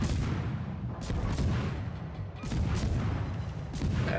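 Warship guns firing in World of Warships, from a Fletcher destroyer battle, with deep repeated booming salvos at a steady pace over a dense, rumbling background.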